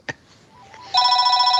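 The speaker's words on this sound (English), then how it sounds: "hang on, my phone's ringing" A phone gives a short click, then a sharp electronic ring starts and holds as a loud, steady, bright tone, with no talking.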